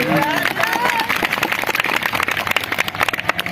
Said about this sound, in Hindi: अरे ताली बजाना ही है तो जम के बजाओ ना